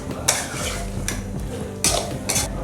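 A spoon scrapes and clinks against a pot while Kerala-style chicken stew with pepper and spices cooks, with intermittent metallic strokes over a soft bubbling simmer, nearby and without speech.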